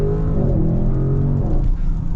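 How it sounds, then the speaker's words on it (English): A 2022 Audi RS7 with all-wheel drive pulls hard on partial throttle, its engine a loud, close, rising drone that eases off near the end. "went into the throttle, right? Didn't go full throttle, but it's quick."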